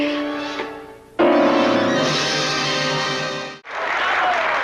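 An opening-night theatre audience applauds in an old film soundtrack, a dense, steady wash of clapping under music that starts abruptly, cuts out briefly and returns.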